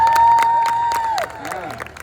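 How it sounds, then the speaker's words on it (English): An outdoor theme-park audience at a Disney California Adventure live show claps and cheers, loudest at the start and tapering off, with a sustained musical tone and stray crowd voices in the mix. "Give him a round of applause."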